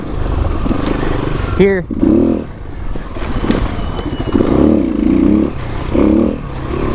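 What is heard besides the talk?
Kawasaki KLX300 dirt bike engine pulling out of corners off road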